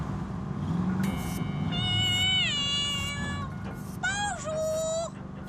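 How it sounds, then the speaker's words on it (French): An animated cat meows several times, drawn-out and wavering, over a steady background hum in a French cartoon scene. "tu veux des croquettes, Minou?"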